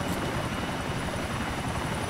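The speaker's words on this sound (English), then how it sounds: "We are out of here in the helicopter." A helicopter in GTA IV with the LCPDFR police mod gives off a steady, loud rotor and engine roar that fills the moment without pause, with no voices over it.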